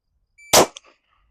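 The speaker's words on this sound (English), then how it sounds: "Guns out, boom, pull the trigger." A single sharp pistol shot cracks out during a target transition drill, one loud brief report with a quick short echo, otherwise quiet.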